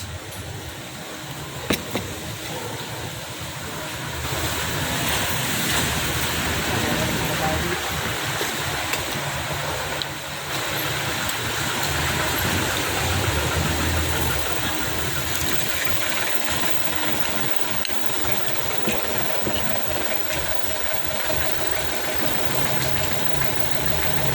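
A motorcycle engine runs steadily while the bike pushes through flood water, the idle churn mixed with constant rushing and splashing water over a long, even stretch.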